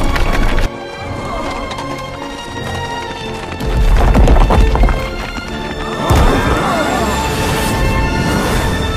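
Several horses gallop in a hurried escape, their hooves clattering in quick, loud beats that surge and shift across the scene.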